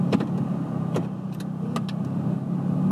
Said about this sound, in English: I hear you, car.